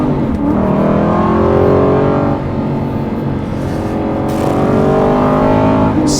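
A Porsche 992 GT3 Touring in sport mode gives a loud, close engine note that climbs and falls through the revs, with repeated rising sweeps as it pulls through the gears.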